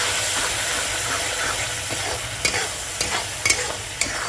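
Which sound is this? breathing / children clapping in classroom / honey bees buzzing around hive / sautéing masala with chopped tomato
sautéing masala with chopped tomato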